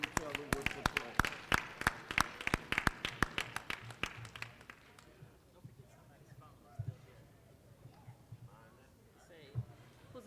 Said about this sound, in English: Let's put our hands together and thank each other and appreciate each other with the applause